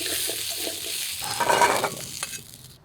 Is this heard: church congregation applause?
no